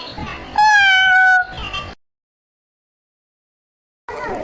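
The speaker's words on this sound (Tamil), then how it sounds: "கருப்பு பூனை." A black cat in a cartoon gives a loud, clear meow lasting about a second, with voices on either side and then sudden silence.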